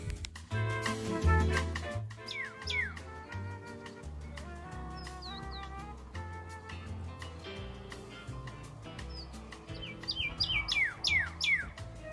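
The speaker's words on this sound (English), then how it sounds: "The Perluxia is a desert cardinal with a similar but slightly more piercing song." A pyrrhuloxia, a desert cardinal, sings clear, whistled song in repeated slurred phrases over a background of low, steady music, with brighter notes gathering toward the end.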